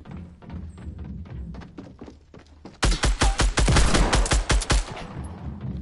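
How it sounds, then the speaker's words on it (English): Video game gunfire aimed at the player: scattered quieter shots at first, then loud rapid bursts of machine-gun fire in a fast, punchy rhythm before easing off. "Someone's straight up shooting me"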